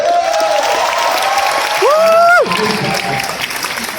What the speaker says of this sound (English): maybe everybody give a round of applause